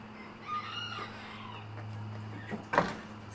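Chickens moving around at night, giving faint soft clucks over a low steady hum, with a sharper, louder cluck near the end.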